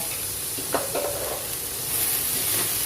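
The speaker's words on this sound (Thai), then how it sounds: "แล้วก็ผัดได้เลย" Food stir-fried in a pan for a Thai home-cooked dinner, with oyster sauce among the seasonings, giving a steady close sizzle and hiss with a few scrapes of the utensil, no talk.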